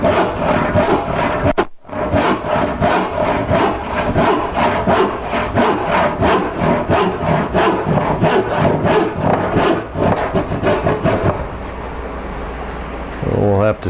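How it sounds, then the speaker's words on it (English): A handsaw cuts a large 10-inch dovetail in mahogany, with rapid, regular rasping strokes, loud and close, pausing briefly once and then stopping near the end. "I'm sawing out the big dovetail here."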